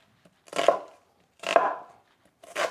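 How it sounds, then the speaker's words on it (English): A knife makes three rough, separate chops through an onion on a cutting board while preparing a Jamaican chicken back dish. The chops are close and crisp, with short pauses between them. "Let's start off by, chopping up the onion."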